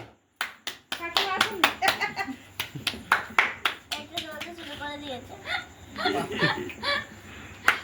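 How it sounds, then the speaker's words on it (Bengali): Rhythmic hand clapping at a child's birthday cake-cutting celebration at home, close and lively, repeated bursts mixed with children's voices, adult talk and bits of laughter. "হাততালি মারো আবার চলে যাবে"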